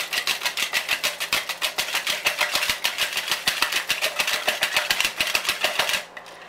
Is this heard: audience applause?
no